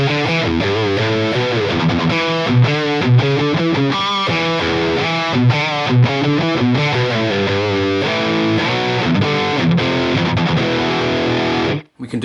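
Electric guitar played through a PRS Archon amp with the drive turned up to about 9, a loud, heavily distorted riff of sustained chords and fast picked notes, up close and alone, cutting off abruptly at the end.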